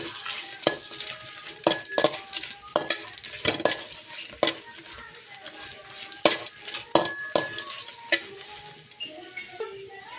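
Ingredients for patrode fry in a pan, a steady sizzle broken by repeated sharp scrapes and clinks of a spoon stirring against metal, close and irregular in rhythm, with no one talking.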